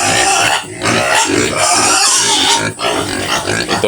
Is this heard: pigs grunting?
yes